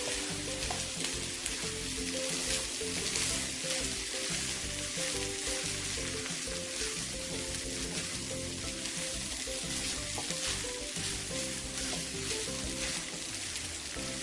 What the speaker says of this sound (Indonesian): Oke, kita aduk hingga bumbu meresap ya.